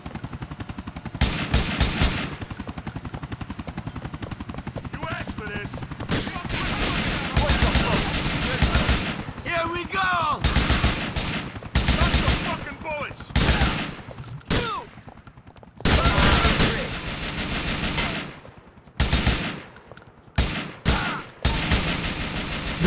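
Rapid gunfire in Grand Theft Auto 4, loud bursts and sustained fusillades of shots with short gaps between volleys, close and dense across the whole stretch.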